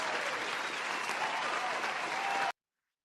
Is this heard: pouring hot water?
no